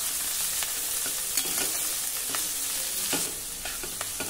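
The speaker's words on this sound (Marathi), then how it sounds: "आता आपल्याला हे नीट मिक्स करायचं आहे।" Chopped chivai greens stirred in a hot pan with red chilli powder, a continuous close sizzle broken by scraping spatula strokes as the greens are mixed, with no voices.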